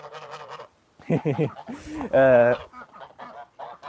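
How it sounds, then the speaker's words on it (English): Several geese honk loudly and repeatedly nearby, harsh nasal calls in uneven bursts, one especially strong honk standing out among the others. "There's some loud honking."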